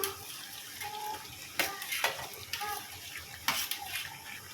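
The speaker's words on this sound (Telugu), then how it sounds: "ఇందులో బుడం దోసకాయలు వేస్తున్నాను" Pieces of bottle gourd cucumber being dropped into chicken cooking in a pot, with soft clatters and stirring scrapes over a gentle sizzle, close and fairly quiet.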